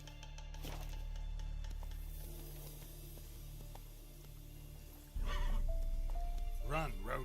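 A horse in The Witcher 3 video game whinnies loudly near the end over a low game rumble, after a quieter stretch with a faint earlier snort, and hoofbeats come in as it breaks into motion.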